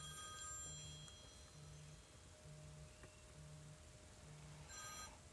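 A mobile phone rings during a chemistry lecture on electronic structure, a steady repeating electronic ring pattern of about six pulses over a low room hum, with no talk.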